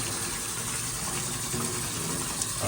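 Water gushes steadily over a K&N air filter being rinsed clean, a continuous close hiss of running tap water with no pauses and no talk.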